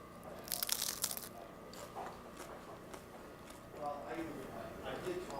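Crunching a tortilla chip topped with jalapenos: a burst of sharp, crisp crunches early on, followed by quieter chewing, with people talking and reacting around it.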